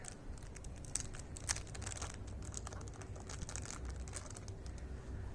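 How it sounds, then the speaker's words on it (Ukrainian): A small plastic packet holding a badge is torn and crinkled open by hand, giving a steady stream of close, dry crackling and rustling with a few sharper snaps. "Зараз я розкрию цей пакетик."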